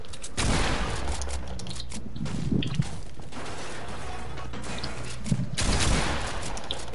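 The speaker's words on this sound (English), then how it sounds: "there's three people shooting at me" Several players fire at once in a Fortnite match, loud overlapping gunshots bursting in clusters with short gaps, heavy at the start and again near the end over a steady game backdrop.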